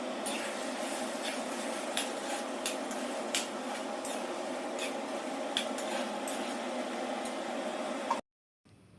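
Pumpkin and potato pieces frying in a pan as they are stirred, a continuous close sizzle broken by repeated scraping and clinking strokes of the spoon, cutting off just before the end.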